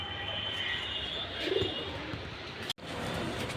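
Pakistani high flyer pigeons coo softly nearby in a quiet setting, with a faint background hiss and a brief click near the end.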